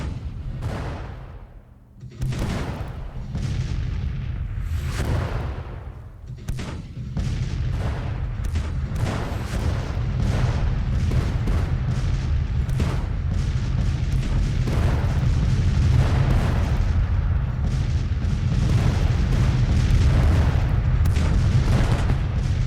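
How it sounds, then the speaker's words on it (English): Whitworth artillery and musket fire in a Civil War battle in Grand Tactician, a dense continuous barrage of booms and cracks, loud and rolling without a break for the whole stretch. "As the Whitworth's firing at least."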